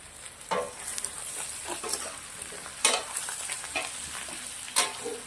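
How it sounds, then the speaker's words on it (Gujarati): Bottle gourd muthiya sizzle as they roast in oil in a pan, with a steady frying crackle under repeated close spatula stirs and scrapes. "વઘાર્યા પછી બે મિનિટ સુધી આપણે થોડા તેલના અંદર શેકી નાખશું ત્યાંથી કરીને થોડા ક્રિસ્પી બનશે"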